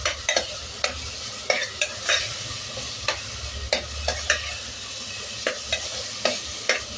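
Spoon stirring Kashmiri red chili powder and drumsticks frying in oil, repeated scraping strokes over a soft continuous sizzle, close and moderately loud.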